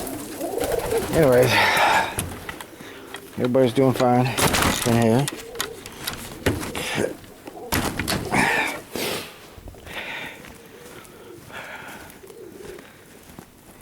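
Pigeons coo in bursts inside a loft during a Michigan winter storm, soft rolling calls rising and falling near the listener, while someone talks over and between them.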